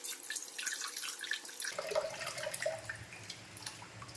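Black kavuni rice being rinsed in water, with a steady running, sloshing wash and occasional drips, fairly close and alone.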